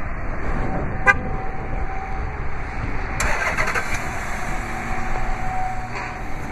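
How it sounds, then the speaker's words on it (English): A 2013 Dodge Charger R/T Daytona starts via remote start: a short cranking burst near the beginning, then a louder engine catch and rise around midway, settling into a steady idle rumble close by, with no talking. "just double press the remote start button on the key fob"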